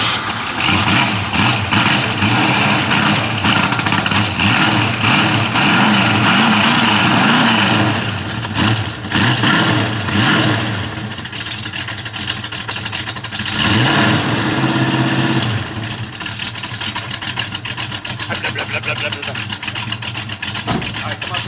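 A 1971 Ford Mustang Mach 1 clone's V8 rumbles at idle through its exhaust, loud and close, with a few throttle blips and engine swells, while someone talks over it.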